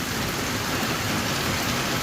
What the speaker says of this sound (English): Nothing like rain on the tin roof, huh?